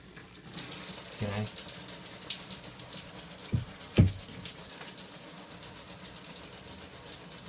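A tap runs with its water pressure slowly dropping, giving a steady close hiss that fills the clip, and a voice speaks briefly over it.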